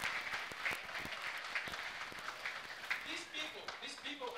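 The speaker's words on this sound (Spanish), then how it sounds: "démosles un aplauso a las ciudades hermanas por el trabajo que hacen" A small audience applauds the sister cities volunteers at a hearing-aid donation event held in the US ambassador's residence, steady moderate clapping with scattered claps and some voices murmuring underneath.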